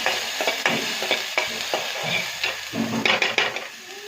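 Chopped beans and carrots for a momo filling are stirred in a pan, with repeated close scraping and clinking of the utensil over a soft sizzle.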